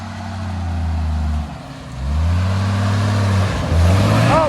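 A Jeep's engine revving hard as it tries to climb onto a car, a loud, close, droning roar that dips briefly then surges up again and holds.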